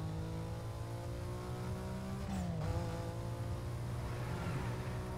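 A car races at speed in Need for Speed Most Wanted, its engine a steady mid-pitched drone with whining tones that shift pitch as it shifts gears, under a constant game soundtrack and no talking.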